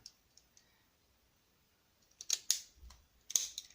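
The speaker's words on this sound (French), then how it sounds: "Je vais prendre ma petite paire de ciseaux." Small scissors snipping paper during a die-cut lollipop craft, quiet at first with a few faint clicks, then several sharp close cuts in quick succession.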